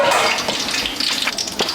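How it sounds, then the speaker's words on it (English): Hot oil bubbling and sizzling in a pot, heated to about 365–370 degrees for frying Greek fries, a steady close hiss with brief watery crackles and no talking. "It's bubbling, our oil."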